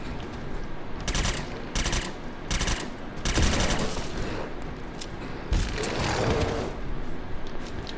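Gun in the video game Fallout 4 fires in several loud bursts of rapid shots separated by short pauses, close and punchy, with brief rumbling booms and no talking.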